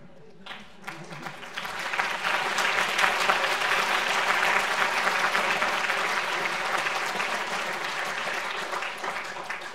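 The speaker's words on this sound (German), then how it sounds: "Dazu zählen zum Beispiel Klatschen, was Sie ja heute Abend schon sehr, sehr gut machen." Audience at a music school concert claps steadily, a dense sustained ovation swelling after a brief start and holding loud throughout, with no talk over it.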